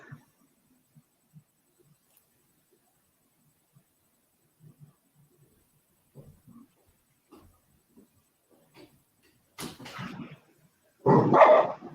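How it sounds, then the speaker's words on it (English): A dog barks a few short times in a quiet room, the loudest bursts coming near the end after scattered soft noises. "Gracie, you're going to be a YouTube star if you keep barking."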